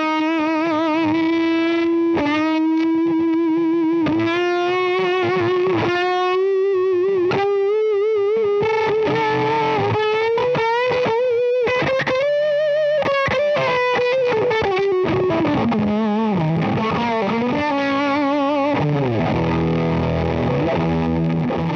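An electric guitar played through a reverb pedal demoed at the NAMM 2025 show, loud sustained distorted notes and bends with a long washy reverb tail and trails that swell and smear between phrases, continuous with no talk.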